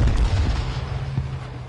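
Booming gunfire from players in an H1Z1 duos battle royale match, a dense run of heavy low thuds and pops that rolls on without pause.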